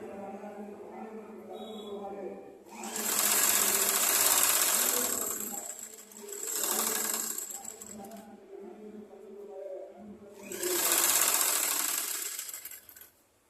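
A sewing machine stitches a blouse in three bursts of rapid, close mechanical whirring and needle clatter, separated by short pauses with a soft low hum beneath.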